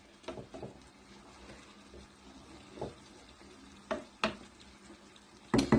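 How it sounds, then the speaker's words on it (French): A Moroccan tajine of meat simmers gently on the stove, giving a faint, low bubbling sizzle broken by a few sharp clicks and pops spaced irregularly over several seconds. "Ça cuit doucement, doucement, doucement."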